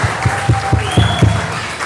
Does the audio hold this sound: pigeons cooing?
no